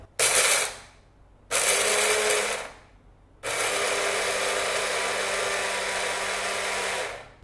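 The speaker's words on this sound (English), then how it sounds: "Let's add the roasted gram and jeera and grind it to a powder." A mixer grinder grinds copra, roasted gram and cumin seeds to a dry powder in three bursts: two short loud whirring runs with pauses, then a longer steady grind, close and loud, with no talk.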